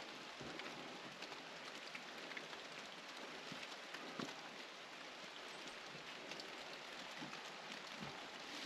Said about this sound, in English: Nice shelter out of the rain.